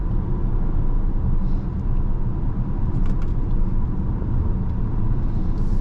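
A 2021 Mercedes-AMG GLE 53 cruises along, its steady low engine and road rumble filling the cabin evenly from start to finish, with no one talking.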